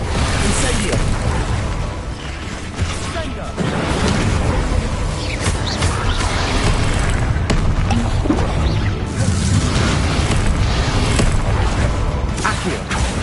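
Spells cast in rapid succession in Hogwarts Legacy, including the Incendio fire spell: loud magical bursts, whooshes and crashing impacts overlap continuously, with voiced incantations woven through the din.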